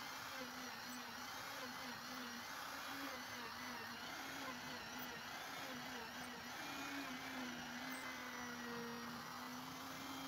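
A 1.5mm drill bit in a milling machine drilling holes in a wooden pinball playfield, a steady high whining motor hum with no pauses.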